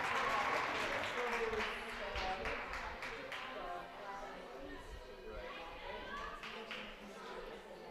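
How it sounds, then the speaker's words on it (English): Audience applause and cheering at a varsity high school gymnastics meet after a stuck landing, loud at first and then thinning into scattered clapping with crowd chatter and children's voices in a gym. "a big round of applause"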